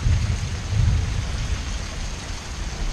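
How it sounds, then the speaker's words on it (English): Thunder rumbles low and loud during a heavy rainstorm as Florida braces for a hurricane, swelling in two rolling surges over steady hissing rain. "did you hear that thunder?"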